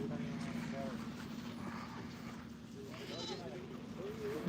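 Goats bleat at a livestock market in Dhanaula, several wavering calls near and farther off, mixed with people talking and a general crowd murmur.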